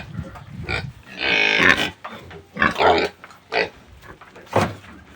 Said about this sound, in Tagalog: Yung bibigay sa alaga namin baboy.